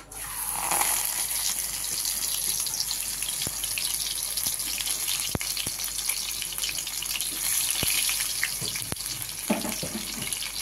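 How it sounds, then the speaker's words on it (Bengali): Jute leaf fritters coated in thin gram-flour batter deep-fry two at a time in oil, making a loud, steady hiss with scattered sharp pops and crackles. "আমি দুটো করে দিয়ে ভাজা শুরু করেছি।"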